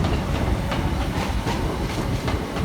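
A British Rail Class 319 electric train runs through Crewe station on the West Coast Main Line, a steady loud rumbling roar with rhythmic wheel clatter and hiss lasting the whole stretch, no voices.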